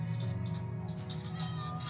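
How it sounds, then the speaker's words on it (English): Cats meowing at night in the Minecraft video game, a soft, drawn-out mew over a low steady background hum, faint and brief. "Oh, there's a kitty. There's two of them."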